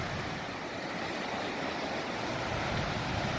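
Steady wind-driven waves on Lake Michigan wash and churn in a constant broadband roar, whitecapping, with gusty wind rushing over the water at sunset.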